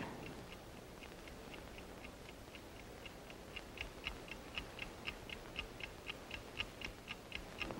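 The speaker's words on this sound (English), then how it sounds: "You hear that ticking? You hear it? That is the signal that the precious metal is near." A Hobart Gold Finder device in a classic Western TV drama emits its signal as a steady stream of sharp, bright ticks, growing slightly louder and more distinct as they go, over a quiet background hiss.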